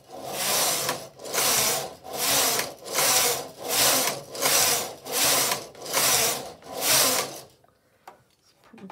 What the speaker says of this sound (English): Let's knit a few rows